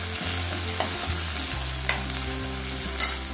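A garlic and cumin paste with curry leaves frying in a pan for tamarind kadhi, a close, steady sizzle broken by three sharp stirring scrapes of a spoon against the pan, with no speech.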